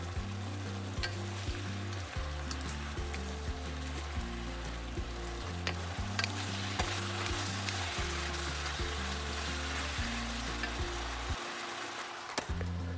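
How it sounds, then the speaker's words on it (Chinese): Beef brisket stir-fries in a wok with soy sauce, dried chillies, bay leaves, cinnamon, star anise, salt and sugar, sizzling steadily with scraping stir strokes. Soft background music plays underneath. "然后再加入生抽、干辣椒、香叶、桂皮、八角、盐和糖，炒至牛腩上色。"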